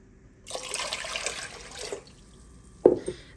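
Water pours from a tap into a container for an okra pickling brine, a steady rushing stream lasting about a second and a half, then a brief splash near the end, close and without talking.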